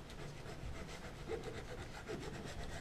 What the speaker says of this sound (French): Et on frotte énergiquement pour vulcaniser la colle.